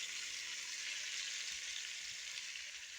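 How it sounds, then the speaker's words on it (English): Seasoned meat for Creole carne con papas fries in a pan with a steady, dense sizzle that holds evenly at close range throughout, with no talk. "I'm going to add my seasoned meat."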